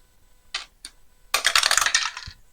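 Dice rattling for an APBA Football board game: a couple of short clicks, then a dense burst of dice tumbling and clattering across a hard surface for about a second, close and fairly loud, with no talk.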